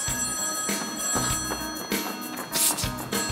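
A telephone bell rings in repeated bursts on a stage during a high-school musical, fairly close and loud, with brief pauses between rings and no talk.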